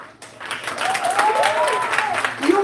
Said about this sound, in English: So loud cheer for yourselves.